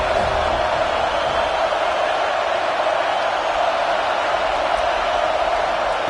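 A football stadium crowd sends up a steady, unbroken roar that fills the whole space, loud and continuous with no single voices standing out.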